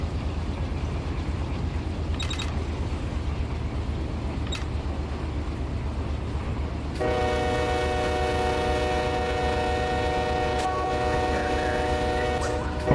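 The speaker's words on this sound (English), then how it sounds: "This is a Boston coal train, empty, going back" An empty coal train rolls by in a train simulator game with a steady low rumble, then a loud, sustained horn blast begins midway and holds over the passing noise, with a few short clicks before it.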